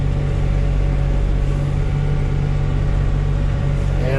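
A Kioti CK3510 compact tractor in low gear grades an indoor arena with a box blade, its diesel engine droning loud and steady at close range with a deep, even rumble throughout.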